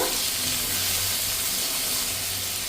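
Small diced potato cubes tipped into a hot pan for a mushroom dish give a steady, even sizzle with a constant hiss, close and moderately loud, with no talking.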